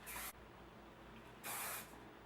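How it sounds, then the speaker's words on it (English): Finishing hair spray hisses from an aerosol can in two short bursts, the first brief and the second a little longer, close and fairly quiet with a pause between them. "Then I use my finishing spray."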